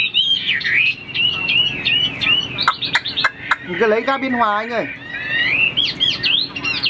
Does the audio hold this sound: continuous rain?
no